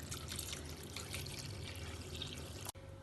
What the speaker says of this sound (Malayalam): ഇതിലേക്ക് ഇനി നല്ലോണം വെള്ളം ഒഴിച്ച് 3-4 വട്ടം നന്നായി കഴുകിയെടുക്കാം.